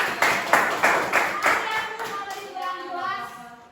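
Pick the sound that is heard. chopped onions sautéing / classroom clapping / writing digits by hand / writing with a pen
classroom clapping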